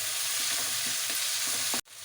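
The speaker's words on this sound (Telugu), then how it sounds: "కరివేపాకు వేస్తున్నాము." Curry leaves sizzle steadily in hot oil in a pan while something is stirred through them, a close, continuous crackle that cuts off abruptly near the end.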